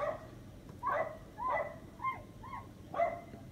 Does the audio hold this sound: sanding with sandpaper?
no